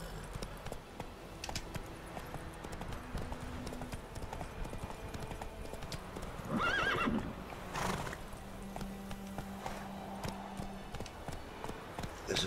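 Roach, the horse in The Witcher III, gallops with steady clip-clop hoofbeats and gives a loud neigh midway, the game's music humming underneath.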